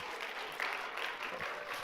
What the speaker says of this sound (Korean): 우리 한꺼번에 박수 축하받겠습니다.